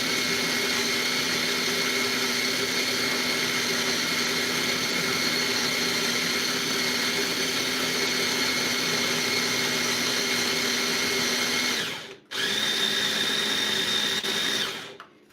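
A small kitchen blender runs continuously with a steady, close mechanical whir and hum, briefly stopping near the end before starting again; no one speaks over it.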